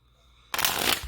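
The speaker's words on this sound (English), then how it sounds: "we'll do 3 shuffles" Tarot cards are shuffled in one brief, close riffle: a sudden crisp burst of flapping card noise after a moment of near silence.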